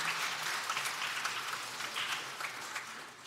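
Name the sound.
congregation applause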